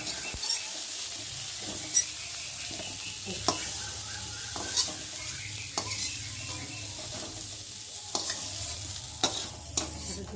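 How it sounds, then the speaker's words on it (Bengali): Fried cauliflower pieces being stirred and pushed to one side in a hot oiled kadai, a steady sizzle broken by repeated sharp scraping knocks of the spatula against the pan, close and alone. "আর এখন আমি ফুলকপিগুলোকে একটা সাইড করে ভালো তুলে নেব।"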